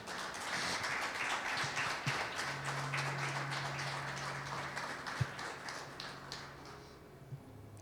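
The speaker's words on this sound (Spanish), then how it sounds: "Dale una ofrenda de aplauso al Señor." Applause from a church congregation offered to the Lord, fairly faint and thinning out over several seconds, with a few sharper isolated taps and knocks toward the end.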